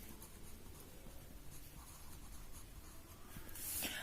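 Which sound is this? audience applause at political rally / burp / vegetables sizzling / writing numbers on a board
writing numbers on a board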